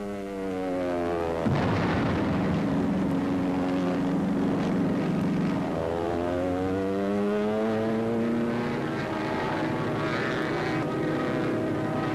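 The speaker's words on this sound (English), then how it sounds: "Dive bombers attack Allied connections to the rear." Propeller dive bombers drone steadily overhead on the Western Front in 1940, the engine pitch rising and falling as planes swoop past attacking in a continuous roar.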